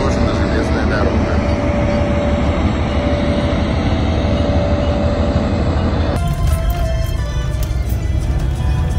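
A loud, steady rumbling roar of a train running close by on a railway near Tulun, Russia, continuous and heavy, with a shift in tone partway through.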